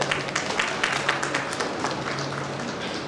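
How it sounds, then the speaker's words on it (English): An audience at a state-level general physicians' conference applauds for a speaker, a dense, steady patter of many hands clapping at moderate volume that tapers slightly toward the end. "Give her a big applause."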